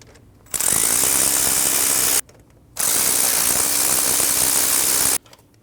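Power tool tightening idler pulley bolts on a 2012-2022 Volkswagen Passat 2.5L five-cylinder, two loud sustained whirring runs of about two seconds each separated by a brief pause, close by with no talk.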